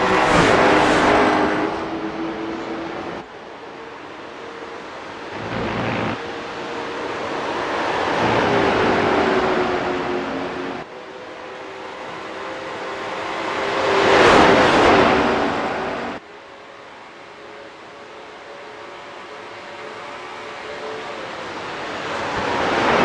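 Late model race cars circle the track at Watkins Glen in the final laps, their engines swelling and fading as the cars pass at a distance in repeated waves, with no talking.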